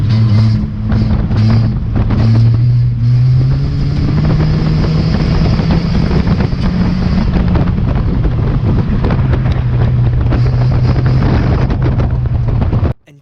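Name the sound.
race car driving on track during race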